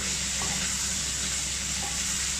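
Rice being stirred into meat in a hot pan for Middle Eastern stuffed chicken, a steady close sizzle with soft scraping under it, no talk.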